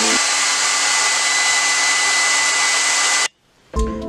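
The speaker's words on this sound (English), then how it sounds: "hair dryer." A hair dryer blows steadily and loudly at close range, drying liquid latex on skin for Joker scar makeup; its even whoosh runs without pause, then cuts off abruptly, followed by a brief clatter.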